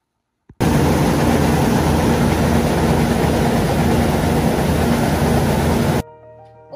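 A small rice mill that strips the outer hull from palay runs with a loud, steady, broadband mechanical roar that starts abruptly, holds constant, then cuts off, leaving quiet hum.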